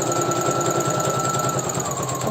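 A sewing machine runs continuously, stitching a straight seam on a small Japanese-style baby slipper. Its needle chatters in a rapid, even rhythm with a steady motor whine, close and loud, with no talking.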